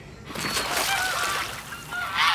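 Geese honk close by in a busy chorus, with overlapping nasal calls that swell louder toward the end.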